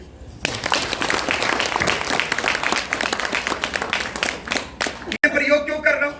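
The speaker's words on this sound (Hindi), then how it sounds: "ताली बजा दीजिए।" An audience at a seminar in Agastyamuni claps in a dense, sustained burst for about five seconds, and a voice follows at the end.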